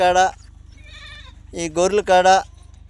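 Goats bleat loudly and close by in a desert, one wavering cry followed after a pause by several more overlapping bleats, with a steady low hum underneath.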